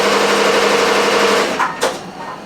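An embroidery machine running left chest logos drones loudly and steadily up close, then two brief sharp mechanical clacks come near the end as it falters.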